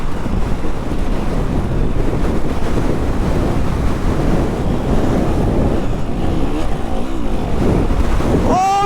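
Strong winter wind buffets the microphone in a loud, continuous roar, with water and surf sounds mixed in on a stony shore.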